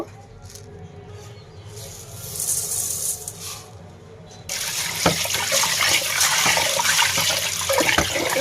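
Rice is washed in water in a home kitchen, starting with soft trickles and splashes, then a louder rush of running water with sloshing and clinks from about halfway on.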